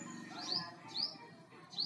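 A bird calls loudly from overhead, three rising chirps spaced about half a second apart, clear and close above a low murmur of background noise.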